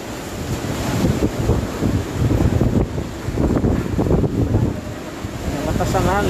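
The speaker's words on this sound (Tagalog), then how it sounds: "Malakas ang hangin." Strong Super Typhoon Goni wind roars in Sorsogon province, Philippines, a loud continuous gusting rumble buffeting the microphone, with faint voices beneath.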